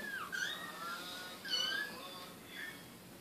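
Four-week-old kittens meowing in a series of high, thin mewls, several short calls in quick succession near the start and middle and another toward the end, fairly close, with a faint voice in the background.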